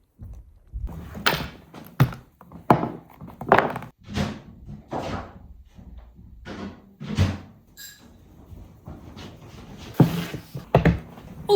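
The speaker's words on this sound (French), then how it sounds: "Je sais pas si vous entendez, mais il y a des travaux au niveau de mon toit là." Construction work on a roof overhead: irregular dull thumps and knocks, some sharper bangs, scattered through the stretch at moderate loudness, heard indoors with gaps of quiet between hits.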